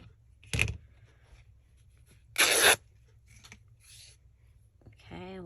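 Scissors snip through fabric ribbon on a crafting table in two short, close bursts of crisp cutting, one brief and one longer and rasping, with quiet handling noises in between.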